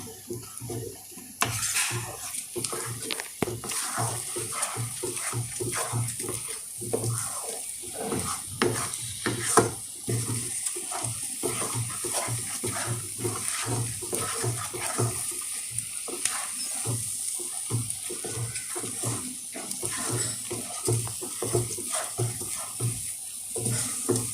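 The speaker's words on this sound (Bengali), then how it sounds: "সেই জলের মধ্যে সুজিটা দিয়ে আমি নাড়তে রয়েছি" Semolina stirred into water in a pan for potato fingers: a continuous, close, wet scraping and sloshing as a spoon works the thickening mixture around the pan, with occasional clinks.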